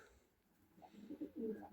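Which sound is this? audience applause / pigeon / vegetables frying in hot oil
pigeon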